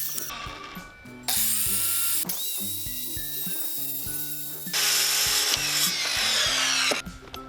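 A saw cuts a notch into fiber cement siding for a chicken coop, loud harsh bursts of rasping cutting separated by brief pauses, with the blade whining between cuts.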